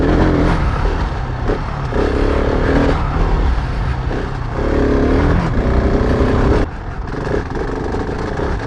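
Husqvarna 701 Enduro single-cylinder motorcycle engine chugging at low revs in third gear over rocky terrain, a steady loud close drone with uneven pulsing that drops slightly near the end.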